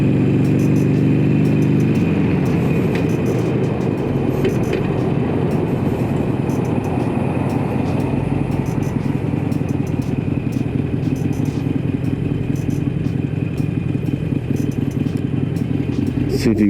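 A 2019 Harley-Davidson Iron 883 motorcycle running steadily and close while being ridden, with a constant loud engine drone and wind rush throughout.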